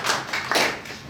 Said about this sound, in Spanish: Un aplauso para José Ángel